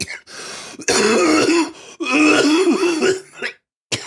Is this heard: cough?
yes